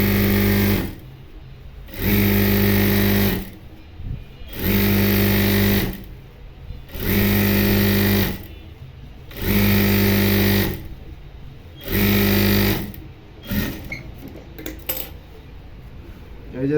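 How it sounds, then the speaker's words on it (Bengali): A sewing machine stitching thick elastic onto a pyjama waistband runs in loud, even bursts of about a second each, separated by short pauses, with a clatter of handling at the end. "এখন এটার পাশ দিয়ে আর একটা সেলাই দেবো"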